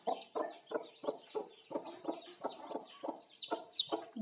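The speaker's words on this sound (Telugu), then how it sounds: "ఇప్పుడే పుట్టిన కోడి పిల్లలు చూడండి." Newly hatched chicks with poultry nearby produce a steady series of short, rhythmic clucking and peeping calls, repeated about twice a second and close to the microphone.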